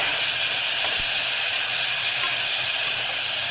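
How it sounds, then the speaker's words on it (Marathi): Ground green chilli, garlic and coriander paste fries in hot oil over a high flame, a loud continuous sizzling hiss held steadily from start to finish with one faint knock. "हिरवी मिरची लसूण वाटलेलं आहे कोथिंबीर ते घालून घेते ते तेलामध्ये चांगलं पण फ्राय करून घ्यायचं"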